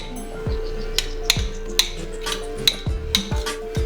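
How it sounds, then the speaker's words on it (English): Onions and meat for samosa filling are stirred in a pan, with a spoon knocking and scraping against the metal in sharp irregular clinks over a low steady hum, close and without talk. "I'm going to mix the onions"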